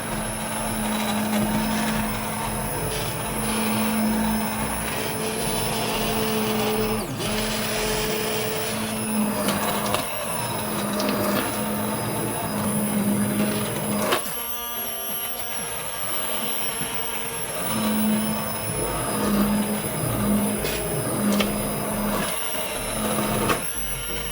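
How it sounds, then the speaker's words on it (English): An immersion blender purees butternut squash soup in a pot, giving a loud, continuous motor whir that runs steadily for over twenty seconds, with short pitch dips and a brief pause midway as the blade moves through the thick soup. "So now I'm going in with my inversion blender, and I'm going to go ahead and blend it right through."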